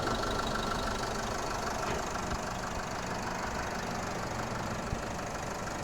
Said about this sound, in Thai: เครื่องยนต์ก็คือเดินเรียบเลยนะครับ